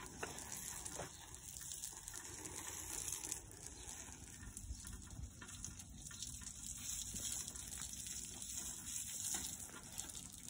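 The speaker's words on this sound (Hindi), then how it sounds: "बुलबुल को नहलाया जा रहा है" Water is poured over a bulbul bird during a bath, a steady splashing gush with faint crackle that runs continuously at low, even volume, heard alone without voices.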